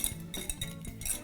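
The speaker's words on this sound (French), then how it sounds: "On va mélanger les ingrédients humides avec les ingrédients" Wet ingredients being stirred into dry ones for an olive recipe, a spoon scraping and clinking against a bowl in short, close, quiet strokes with no talking.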